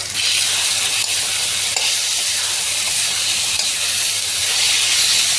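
Tomatoes sizzling in spiced masala in a pan, a loud, steady frying hiss throughout with faint stirring scrapes, no voices.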